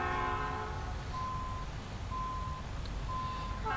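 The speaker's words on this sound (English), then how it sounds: "you can hear the trains moving around in the yard" Trains move around a rail yard in the American Truck Simulator game, with a steady low rumble of rolling cars and sustained horn tones sounding repeatedly at moderate distance.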